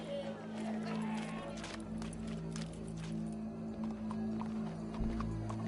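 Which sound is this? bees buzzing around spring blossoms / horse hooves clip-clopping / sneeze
horse hooves clip-clopping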